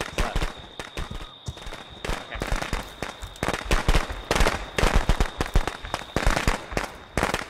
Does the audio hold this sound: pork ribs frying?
no